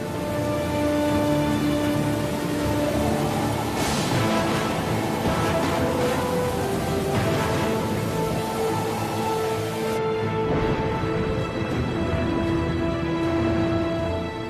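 A storm at sea brings steady heavy rain with rolling thunder swelling beneath it and a sustained tonal drone running through, loud and continuous with no voices.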